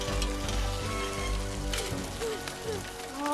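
Rain patters steadily in a scene from the animated film Luca, a dense wash of drops on surfaces layered with low music-like tones, continuous and fairly close.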